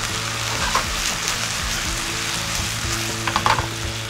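Porcini mushrooms sizzle loudly in a pan after a splash of white wine, a steady close frying hiss with occasional stirring clinks and bubbling pops.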